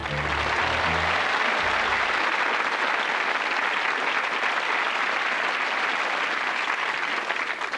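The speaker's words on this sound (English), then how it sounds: "We're not quite sure why we're applauding. We're just applauding." Studio audience applause at a British TV comedy show, a loud, dense, steady wash of clapping that holds evenly throughout after a brief low tone at the start.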